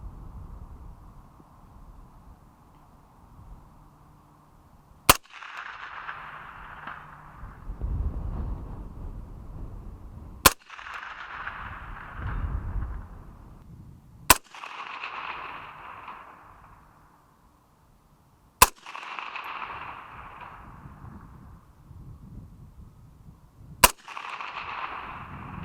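Five sharp rifle shots from a CMMG MK47 short-barreled AK-hybrid chambered in 7.62x39, fired outdoors in snow, spaced several seconds apart, each a loud crack followed by a short rolling echo over a quiet background.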